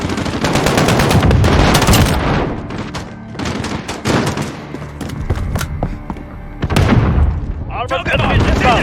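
Loud, near gunfire in the Modern Warfare Spec Ops shooter game: rapid automatic bursts and single shots crackle in dense volleys with brief pauses, while players talk over the shooting.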